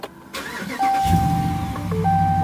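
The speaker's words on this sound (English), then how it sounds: "Let's fire up the truck." A Ram 1500 pickup truck engine cranks briefly and fires about a second in, then settles into a steady, close idle with a low rumble and a thin constant whine.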